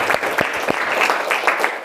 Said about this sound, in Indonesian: Buat kasih tepuk tangan buat kita semua.